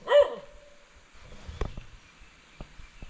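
A single sharp dog bark at the start, somewhat distant, followed by quieter knocks and rustling in an otherwise calm space.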